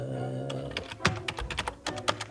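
Computer keyboard keys tapped in short irregular bursts while entering a search term in 3D design software, close and fairly quiet, with no voices.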